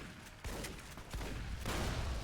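Enemy gunfire in Fallout New Vegas comes as a muffled, irregular burst of shots over a few seconds, moderately loud and layered with game ambience.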